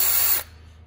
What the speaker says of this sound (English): we're gonna try to drill it with a regular drill by hand